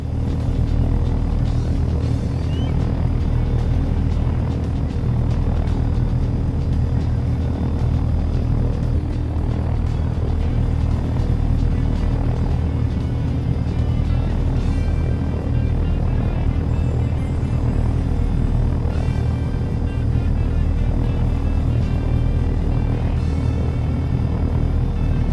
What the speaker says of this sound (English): If you're ready, take control of the helicopter.